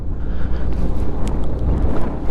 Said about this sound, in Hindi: और हवा बहुत तेज़ चल रही है भाई साहब